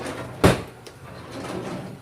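A single kitchen drawer shuts with one short, sharp knock up close, then a faint softer thud follows in a quiet room.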